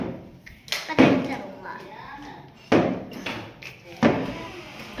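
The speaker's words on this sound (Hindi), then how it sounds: "खटखट मत करो" Knocking and banging at a home comes as loud, abrupt thumps spaced a second or more apart, close by, mixed with a voice and other talk.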